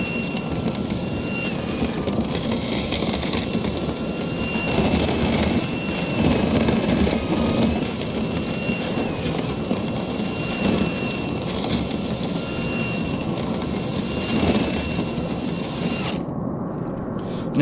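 A loud, steady dryer vent cleaning blower roars continuously with a broad rushing noise and a faint high whine, cutting off abruptly at the end.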